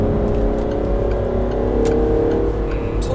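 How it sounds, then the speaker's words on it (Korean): A Peugeot 308 GT with a four-cylinder diesel plays a synthetic engine sound through its cabin speakers while driving, giving a steady, loud low drone with a slight rise like gentle acceleration and faint ticks above. "엔진 소리가 나는데 가상 엔진음 네, 그렇습니다. 이게 좀 스피커에서 나는 소리예요."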